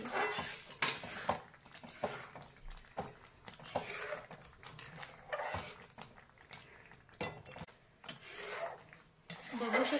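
A spoon scrapes and rubs steadily around a pan as a thickening sweet mixture is stirred continuously, giving soft, close, uneven scraping strokes with no speech.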